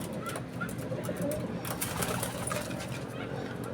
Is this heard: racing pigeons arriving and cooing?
yes